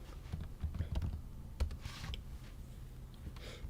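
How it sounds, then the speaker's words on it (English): Computer keyboard typing and mouse clicks patter in quick, uneven bursts at close range, with sharp individual clicks over a low background rumble during a live stock-trading stream. "I keep clicking on the wrong one."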